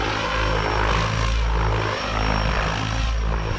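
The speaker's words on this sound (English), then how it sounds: "And then we can actually stop the helicopter right where we want it." Radio-controlled model helicopter flies and hovers with a loud, steady rotor and motor drone, a dense buzzing whir that stays close and constant throughout, with no voices.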